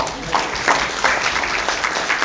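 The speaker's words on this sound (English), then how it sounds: "Let's give them a round of applause too." Applause for candidates at an East Hawaii candidate forum, a crowd clapping in a steady, fairly loud burst with some louder individual claps standing out.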